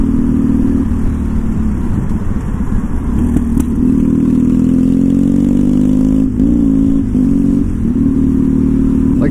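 A motorcycle is ridden on a cold day, its engine droning loud and steady with shifts in pitch as it speeds up and eases off, heard up close.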